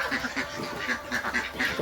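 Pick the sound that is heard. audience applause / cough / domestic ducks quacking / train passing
domestic ducks quacking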